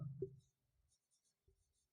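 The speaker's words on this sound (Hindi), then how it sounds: "तो इसमें हम लिखेंगे मोहना," Chalk or a pen writing words on a board during a Hindi-language grammar lesson, giving faint, close, brief scratchy strokes in two short clusters separated by near silence.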